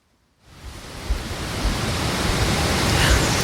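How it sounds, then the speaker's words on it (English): Wind gusts through poplar trees at a campsite, rising from near silence into a broad, steady rushing roar that swells gradually and stays loud, with no voices. "The wind's a little more through the trees"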